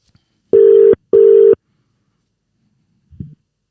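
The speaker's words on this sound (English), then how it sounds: "I'm going to call one of my good friends to help me. Hopefully he answers the phone." A phone call to a friend begins with two loud, even ringback tones about half a second each, separated by a short gap, then silence until a faint brief sound near the end.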